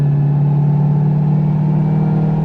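A C5 Corvette Z06 engine idling with a loud, steady low hum and a constant drone, with a faint whining noise running through it.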